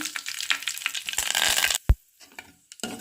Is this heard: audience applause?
no